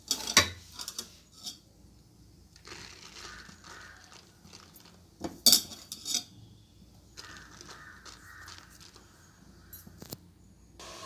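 Semolina (rava) is spooned into an idli plate as scattered clinks and scrapes of a metal spoon against metal, a few sharper knocks among quieter shuffling handling, with no talk.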